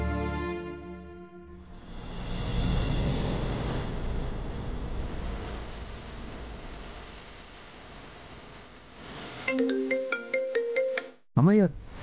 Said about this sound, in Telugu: ఏంటి రాజు కాల్ చేశా?